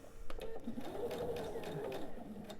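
Sewing machine stitching pieced quilt blocks for a Rock Candy table topper, a steady close mechanical whir running throughout with no pauses.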